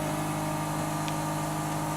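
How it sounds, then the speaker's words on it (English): Vacuum pump of a Charmhigh CHMT48VA pick-and-place machine running, a steady droning hum with tonal whine, constant and fairly loud, with a brief faint tick partway through. "I think that's the vacuum pump got turned on."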